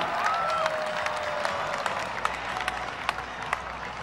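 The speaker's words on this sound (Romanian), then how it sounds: "Și aplauze pentru Paraid Marian Cristian Iagu!" A crowd applauds outdoors at the Bucharest International Air Show, scattered claps rising over a distant hum, with a short whistle-like tone near the start.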